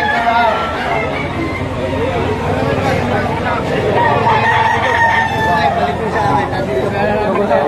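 Young roosters (stags) crowing amid a crowded poultry auction, with steady babble of voices and calls from several birds overlapping throughout.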